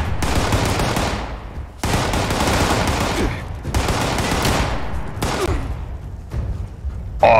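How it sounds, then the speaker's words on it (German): Gunfire in Fallout 76: sustained bursts of rapid shots in a co-op firefight, loud and close, broken by brief pauses, with faint voices underneath. "Ballern ohne Ende, bis sie nachladen"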